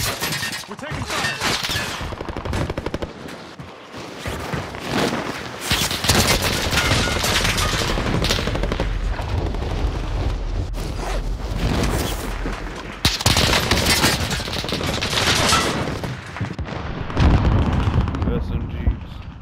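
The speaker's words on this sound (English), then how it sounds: "We're taking fire!" Call of Duty gunfire with dense, sustained bursts and booming impacts filling the mix at close, loud range, with voices talking over the battle throughout.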